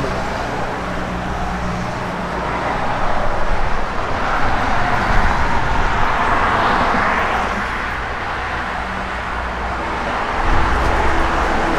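A 1965 Chevrolet Chevy II on the move, its engine drone and road rumble a steady, loud wash from inside the car, swelling slightly as it accelerates, with no voices.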